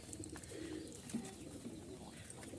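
Tumbler pigeons coo softly as a male courts a female in a loft. The low, throaty, rolling calls repeat under a faint, steady background hum.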